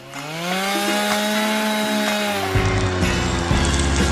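A power saw whines steadily, then drops into a rougher, buzzing grind as it bites through a cactus, loud and close.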